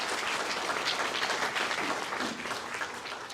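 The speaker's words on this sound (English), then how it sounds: "So could we give them a round of applause?" Steady applause from a sizable crowd at a memorial commemoration, dense and continuous throughout, tapering slightly near the end.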